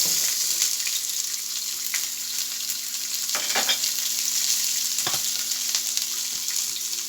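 Onions sautéing in oil in a pan over a gas stove burner, a steady bright sizzle with occasional stirring scrapes and clinks, close and continuous with no talking.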